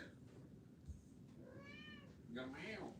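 A cat meows twice indoors, a short call followed by a longer, rising meow, close and clear over quiet room noise while a person's voice is briefly present.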